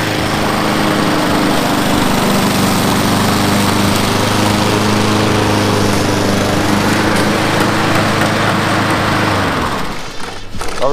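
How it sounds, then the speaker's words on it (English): A loud Honda 21-inch lawn mower engine drones steadily up close, then sputters and winds down near the end. "That's a good cutting mower there."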